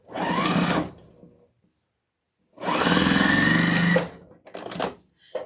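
A sewing machine stitches satin fabric pieces in two bursts, a whirring run of about a second followed by a longer three-second run after a pause, then a few short stitching spurts, close and clear.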